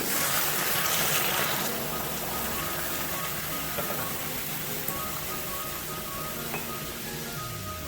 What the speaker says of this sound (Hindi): 1 कप भरकर पानी ऐड करूंगी। ये 1 कप पानी है, ये ऐड करूंगी।